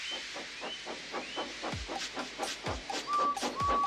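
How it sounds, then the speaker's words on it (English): A steam locomotive puffs away with a run of soft, rhythmic hissing chuffs at moderate distance, and short high whistle toots come near the end. "So they lit his fire, made lots of steam, and Edward puffed away."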